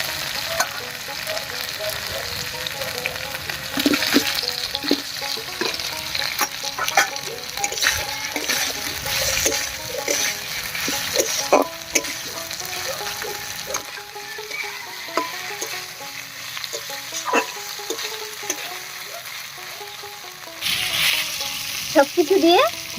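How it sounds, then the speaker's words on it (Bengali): Fried sweet pumpkin pieces are stirred into spice masala in a pan, giving a steady sizzle with repeated scraping and clacking of the spoon, close and fairly loud throughout, with no talking. "এবার এর মধ্যে দেব ভেজে রাখা মিষ্টি কুমড়ো।"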